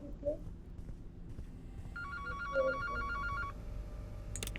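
An incoming call rings on a phone in a room: a repeating electronic ringtone plays for about two seconds beside a person's voice and background noise, then stops.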